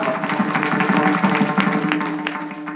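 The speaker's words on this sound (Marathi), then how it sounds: "ज्याला मान्य असेल त्याने टाळी वाजवा" Audience at a Marathi religious discourse clapping in agreement, a brief, even run of many hands at moderate loudness with no talk over it.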